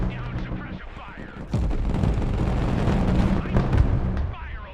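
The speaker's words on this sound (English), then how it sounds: "Bring down suppressive fire!" Heavy suppressive gunfire and artillery in the war game Broken Arrow: a dense, sustained barrage of booms and cracks that swells loud after the first second and rolls on continuously, with a voice shouting commands under the din.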